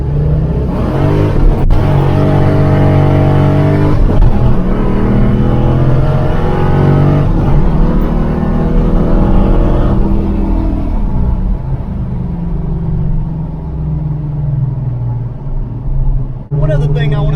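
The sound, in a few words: Ford Foxbody car engine revving hard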